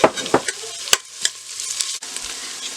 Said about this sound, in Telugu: ఇందులో కట్ చేసిన ఆనియన్స్ వేసుకొని ఫ్రై చేసుకోవాలి